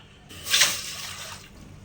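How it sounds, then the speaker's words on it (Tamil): Water is poured into a hot pan for crab rasam, giving a brief rushing hiss and sizzle that swells and then fades within about a second, close and fairly loud. "நம்ம இப்போ தண்ணி ஊற்றிக்கலாம்."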